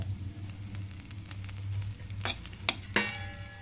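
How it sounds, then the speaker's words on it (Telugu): Bread pieces fry in a pan over low gas with a steady soft sizzle, broken by a few sharp scraping stirs and clinks of a utensil against the pan near the end. "గ్యాస్ చిన్నగా పెట్టుకొని ఎంచుకోవాలి బ్రెడ్ ముక్కలు"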